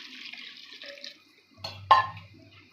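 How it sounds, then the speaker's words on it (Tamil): Water poured into a cooking pan of spicy sprouted-legume stir-fry makes a short splash near the end, rising after a quiet stretch, close by and moderately loud. "இதிலே கொஞ்சம் தண்ணி ஊற்றிடலாம்."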